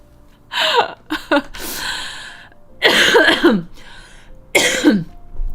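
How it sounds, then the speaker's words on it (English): Several harsh, close coughs in separate bursts, with throaty gasps and throat clearing between them, and no speech. "clearly I'm still coughing"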